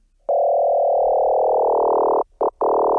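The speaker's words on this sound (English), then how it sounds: "You get that classic FM sound out of it." A bright electronic FM synth tone holds steadily, bending slightly in pitch, then cuts out in two brief stutters before resuming.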